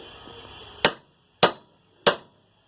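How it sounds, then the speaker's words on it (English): The ball peen end of a hammer taps a front u-joint on a second-generation Ram 1500 truck, three sharp metallic strikes spaced about half a second apart, close and crisp, each with a brief ring. "we want to take this hammer, ball peen end"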